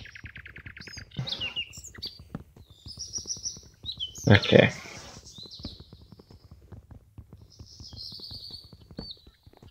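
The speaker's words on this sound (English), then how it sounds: "Jeez, birds are so loud." Birds chirp loudly in a block-building video game, repeated high tweets and calls scattered throughout, fairly close, with someone talking briefly and some clattering underneath.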